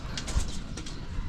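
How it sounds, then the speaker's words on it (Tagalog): Pet pigeons in a loft on a farm, with young birds among them, give soft cooing and brief wing flutters close by against a steady low background murmur. "Yan po yung ating mga alagang ibon."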